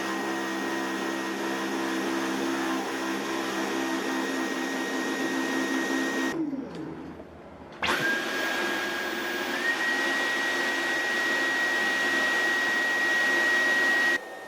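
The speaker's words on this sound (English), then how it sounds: "To give an idea how these two vacuums sound with the torque drive attached" Dyson V10 and V11 stick vacuums running with torque drive cleaner heads attached, a loud steady motor whine with a high tonal hum, one machine cutting off briefly before the other starts up and runs continuously.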